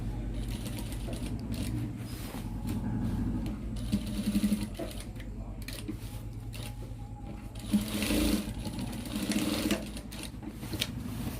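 A sewing machine stitching the collar of a Punjabi dress whirs in steady bursts of rapid needle clatter with brief pauses between runs, close and fairly loud, with no talking over it.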